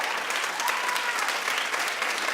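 A studio audience at a talk show claps for Rob Lowe in a steady, dense burst of applause that carries evenly through the moment with no talking.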